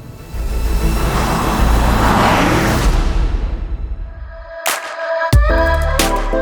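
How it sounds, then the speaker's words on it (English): Audi RS6 V8 engine passing with a loud rumbling, offbeat roar that builds and sweeps away on a twisty Black Forest road, followed by sharp bursts and pops from music or effects. "rumbling, offbeat monster of a V8. Sounds glorious."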